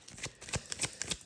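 Tarot cards being shuffled by hand, a quick run of crisp riffling bursts in an even rhythm, close and fairly quiet, with no voices.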